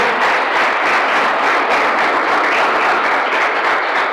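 A church congregation applauding, with dense, steady clapping that stays loud and even throughout, and no voices over it.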